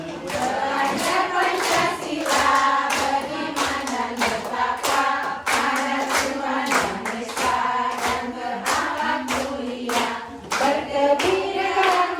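A seated workshop audience in Indonesia claps together in a counted pattern, bursts of hand claps grouped into regular rhythmic sets with short pauses, loud and close throughout with no talking.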